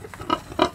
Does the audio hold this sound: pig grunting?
yes